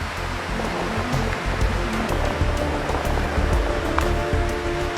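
Surf washes in close by on a white sandy beach in Kebumen, Indonesia, a continuous rushing roar of breaking water that swells and fades slightly, with no talking.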